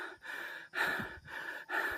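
Heavy, rapid breathing from a runner catching breath after a trail run at a nature farm resort, four loud close breaths in a steady rhythm with short pauses between them.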